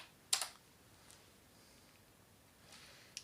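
A few quiet, separated keystrokes on a computer keyboard while logging in to a Raspberry Pi, with a sharp cluster of clicks near the start and isolated taps afterward in an otherwise hushed room.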